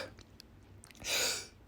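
One close, fairly quiet sneeze comes from a man reading aloud, a sharp breathy burst lasting under half a second after a few small breaths and mouth sounds, with no talk around it.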